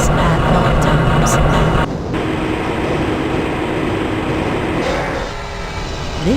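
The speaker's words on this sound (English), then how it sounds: "This train is inbound from the Area 8 topside dormitories to the Central Transit Hub in Area 9." Transit train rolling through the Black Mesa facility in the video game Half-Life: Blue Shift, a loud continuous rumble and rattle of the moving car that dips slightly partway through and carries on steadily.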